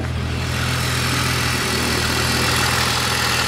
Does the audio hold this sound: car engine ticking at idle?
yes